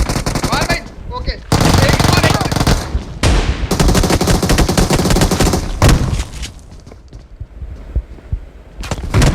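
Rapid bursts of gunfire in a battle royale video game, loud dense rattling volleys broken by brief pauses, with players talking over the shooting.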